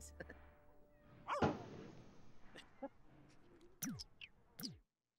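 A dog in the video game The Sims 4 gives a few short, scattered barks and yips over game sounds, with a voice talking quietly in the background.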